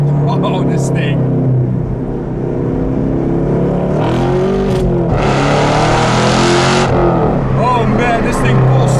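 Engine of a 2018 Chevrolet Camaro SS 1LE accelerates hard, rising in pitch through the gears with a loud, close roar, and a voice talks over it.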